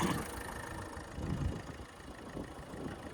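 A car engine idles with a steady low rumble close by, constant throughout with no speech.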